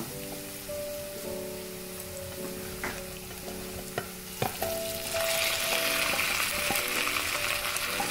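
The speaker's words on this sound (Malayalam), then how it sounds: "അതിലേക്ക് ഞാൻ 1 ടീസ്പൂൺ മുളക് പൊടി ഇടാണ് അതൊന്ന് ഇളക്കിയതിന് ശേഷം നമ്മൾ വേവിച്ച് വെച്ചേക്കണ ചെമ്മീനും കൂടെ ഇടുക ഇതിലേക്ക്" Onions, chili powder and prawns being stirred and sautéed in a pan for chemmeen roast, with a steady sizzle and frying crackle that grows louder toward the end, plus a few stirring scrapes and clinks.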